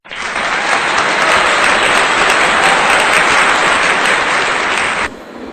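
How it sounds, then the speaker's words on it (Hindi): An audience at a Hindi-Urdu poetry gathering applauds to welcome a poet, a loud, dense burst of many clapping hands that holds steady for about five seconds and then stops abruptly. "आइए विवेक दुबे जी का जोरदार तालियों से स्वागत करें।"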